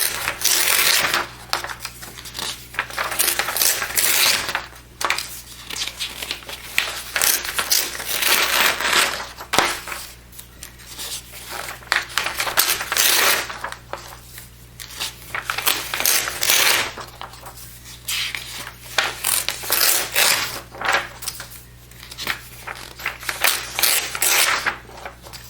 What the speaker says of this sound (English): because I'm tearing between these pages, it's nice and neat between here